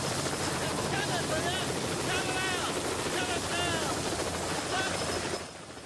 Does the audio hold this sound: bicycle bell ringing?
no